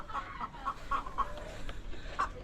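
Hens in a coop cluck in a quick series of short, evenly spaced calls, with one more cluck after a pause, fairly close over a low background hum.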